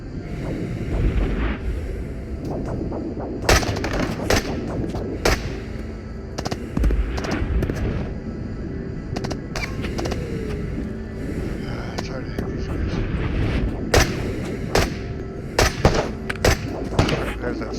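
Gunfire in the VR shooter Into The Radius, sniper rifle shots among them, with repeated sharp loud cracks scattered irregularly over a constant rumbling background, and a voice speaking briefly between the shots.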